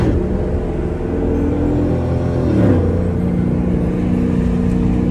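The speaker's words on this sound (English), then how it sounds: "Hearing both Mustangs just going is freaking amazing." A 2011 Ford Mustang GT's engine drones steadily and loudly while driving, a deep continuous rumble with a brief rise in pitch partway through, no talking.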